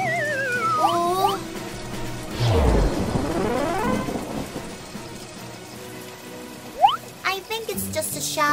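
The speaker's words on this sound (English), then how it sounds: "Oh, it's raining." Rain shower with thunder in a children's cartoon, a deep rolling thunder boom over pattering rain, mixed with cartoon music and effects.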